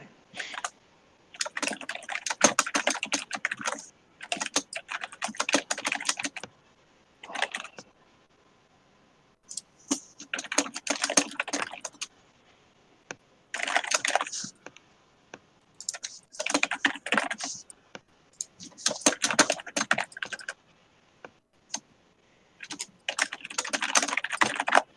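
Bursts of rapid computer keyboard typing in a fantasy game scene, coming in several clusters separated by short pauses, close and fairly loud, with no talking.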